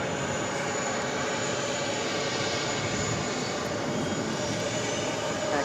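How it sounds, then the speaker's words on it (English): A JetBlue Airbus A320 in New York Jets livery taking off from JFK, a loud, continuous broadband jet roar holding steady throughout, with no talk. "This is JetBlue 577 taking off to Jacksonville on the A320"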